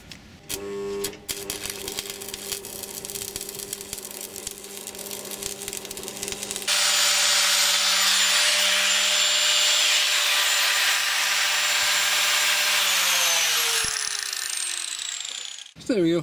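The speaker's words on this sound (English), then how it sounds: "So now, I'll get the welder hooked up." Welding on a quad bike trailer during a refurbishment, with a sustained bright hissing crackle that runs steadily for about seven seconds after a stretch of mechanical humming and clatter.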